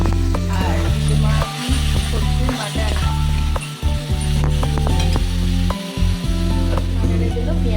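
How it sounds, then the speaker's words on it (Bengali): Onions sautéing in hot oil for a mutton curry, a steady loud sizzle with repeated stirring scrapes and clinks of the spatula against the pan, broken by brief pauses, under faint background voices. "মাটনের জন্য পেঁয়াজটা কষানো হচ্ছে।"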